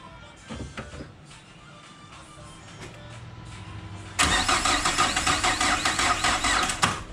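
A car with a swapped engine cranks in several short, uneven bursts, then after a pause its starter grinds loudly in a fast, rhythmic churn that keeps going without the engine catching.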